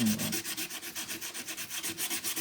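A slate piece being hand sanded in steady back-and-forth strokes, a rhythmic rasping at about five strokes per second, close and even, with no voices.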